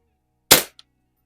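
A single sharp gunshot fired at a paintball target during plinking, loud and close, followed by a faint tiny impact tick and then silence.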